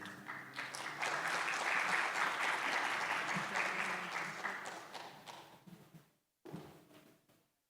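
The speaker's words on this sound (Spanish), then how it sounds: "Muchas gracias por el aplauso." Audience applause welcoming a speaker at a medical congress in Medellín, a steady wash of clapping that swells early, holds, then fades out, followed by brief silence and a few soft scattered claps.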